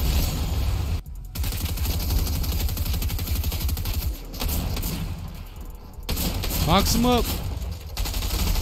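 Sniper and other gunfire in the video game Fortnite, dense crackling shots running almost continuously with a few gaps, while a player talks over them.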